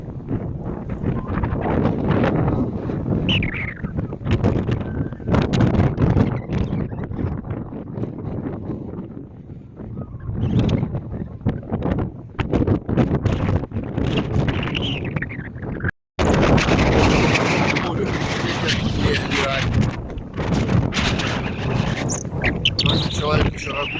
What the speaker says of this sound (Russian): Вот такой ветер задувает.